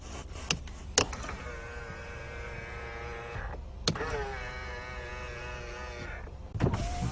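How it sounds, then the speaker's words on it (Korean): The electric folding side mirrors on an SM5 Platinum car motor inward and back out in two steady whirring runs of about two and a half seconds each, each opening and ending with a sharp click. "접이식 사이드 미러"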